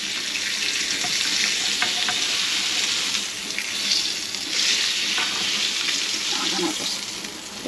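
Food sizzles and fries steadily in a pan as a home cook works at the stove, a continuous bright crackle running throughout with faint clinks and a brief watery sound near the end.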